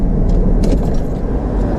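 A car engine idles during a roadside police stop, a loud, steady low rumble filling the whole moment with no break or change in level.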